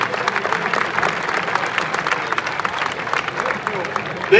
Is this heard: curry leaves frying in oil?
no